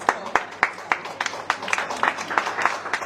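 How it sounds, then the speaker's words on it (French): A small crowd at an art gallery opening claps briefly and unevenly, the claps close and distinct, with faint voices underneath. "On va l'applaudir."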